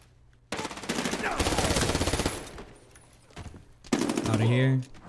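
Gunfire in Medal of Honor Warfighter, a modern military shooter, comes as a loud, rapid automatic burst lasting about two seconds. A few scattered shots follow, then a short final burst.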